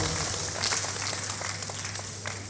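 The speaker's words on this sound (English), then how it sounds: "Please, a very warm round of applause for Dr." A large audience at a Nigerian broadcasting event gives a sustained round of applause for a speaker, a dense, even roar of clapping from a roomful of people, steady throughout.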